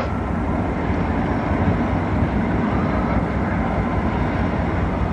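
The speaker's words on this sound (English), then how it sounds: "That's your train engine." A train engine passes in lower Manhattan on the morning of September 11, 2001, a loud, steady broadband rumble that fills the whole span without breaks.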